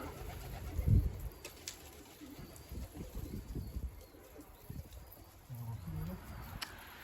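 Soft, low pigeon-like cooing outdoors on a rooftop, a few murmured coos over a steady ambient background, fairly faint and distant.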